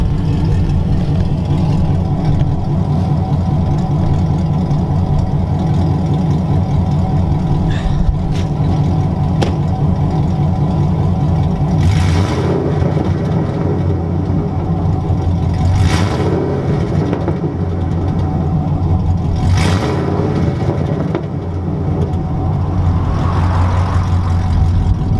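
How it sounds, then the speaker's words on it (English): A 2008 Chevrolet Silverado with headers and straight pipes idles loudly and rumbles, then revs in several sharp bursts that rise and fall, close and steady throughout. "I'm gonna give it a few revs"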